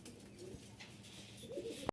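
Giribaz and fancy pigeons coo softly and at a distance, two faint rolling calls over a quiet background, ending with a sharp click.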